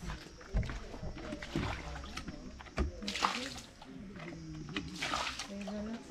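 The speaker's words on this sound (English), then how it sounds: "I just pour the water to remove the dust." Water is poured to rinse dust and soil off food being prepared by women in Rwanda, with splashes and sloshing under ongoing outdoor talk.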